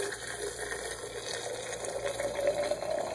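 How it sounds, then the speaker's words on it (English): Water pours from an electric kettle into a gooseneck pouring kettle, a steady trickling, filling stream that holds at moderate level for about three seconds with a rising tone near the end, no talking. "now I'm going to dump my water into my pouring kettle"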